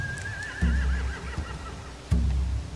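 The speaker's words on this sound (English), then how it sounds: "They have horses." A horse in The Walking Dead final season video game lets out a long, wavering whinny, accompanied by a couple of heavy low thuds from its hooves.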